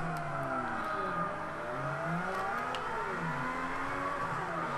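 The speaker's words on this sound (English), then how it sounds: "My car does not sound healthy right now." A car engine in the Forza racing video game revs and rises in pitch in repeated sweeping waves, sounding rough and unhealthy. The engine note is steady and fairly loud throughout, with no talk over it.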